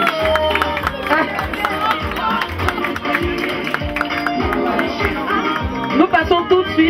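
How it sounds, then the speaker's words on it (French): Crowd of wedding guests applauding and cheering the bride and groom at the cake cutting, a dense steady clatter of clapping mixed with music and chatter throughout. "Ça s'applaudit, des ovations pour les encourager"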